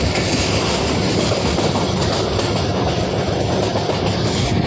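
A train rumbles through Noor railway station on the Rawalpindi to Taxila line, a loud, steady roar of rolling wheels and carriages with faint clickety-clack, continuous and close throughout.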